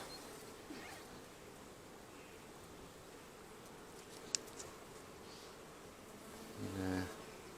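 Honey bees buzz steadily in an open hive during an inspection, a dense insect drone filling the background with a brief louder swell near the end.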